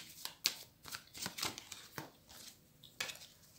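Tarot cards being shuffled and cut by hand, a quick run of soft, crisp riffling and tapping strokes, close and fairly quiet, with no talking.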